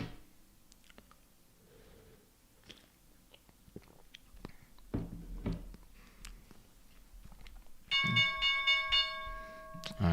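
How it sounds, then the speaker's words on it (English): The stock market opening bell rings in a sustained, repeated electronic clang near the end, following scattered clicks and taps in a quiet room. "there is the bell"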